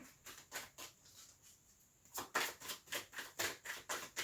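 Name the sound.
tarot cards being dropped and shuffled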